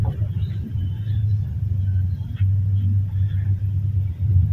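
A vehicle engine idles with a steady low rumble at a junkshop, holding a constant drone close by throughout with only slight shifts in level.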